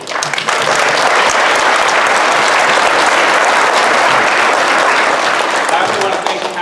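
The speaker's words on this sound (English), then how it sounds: "a round of applause for Mrs." A school audience at a second-grade class event gives a dense, steady round of applause that fills the whole stretch at close range, a thick wash of many hands clapping together without a break.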